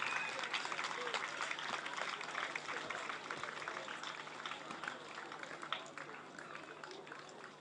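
Audience applause rises to welcome a chairperson at a formal event, a dense, steady patter of many hands clapping throughout at a moderate distance.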